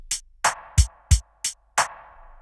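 A short drum pattern programmed on a Korg Volca Sample, alternating crisp hi-hat ticks with two deep kick thumps, ringing with a faint tonal tail, sparse and punchy.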